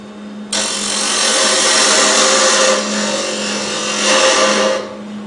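Wood lathe spinning at about 2,800 RPM while turning a peppermill, a steady close whine with a constant low hum that starts abruptly and holds evenly with slight swells.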